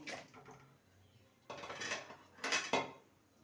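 A metal lid clatters onto a pot of boiling elephant foot yam, with light clinks followed by two louder, close clanks as it settles.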